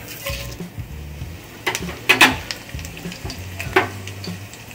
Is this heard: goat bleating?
no